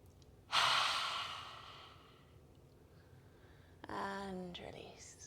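Deep yoga breaths fill the space: a long, loud inhale through the nose that slowly fades, a pause, then a shorter forceful exhale with a slight voiced sigh, close and intimate.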